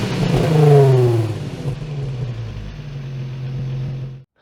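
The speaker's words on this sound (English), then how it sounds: "A 5-cylinder diesel engine in an attractive bucky?" A 2017 Ford Ranger 3.2 TDCi XLT five-cylinder diesel revs up loudly close by, the pitch climbing then dropping back to a steady rumbling idle before cutting off abruptly.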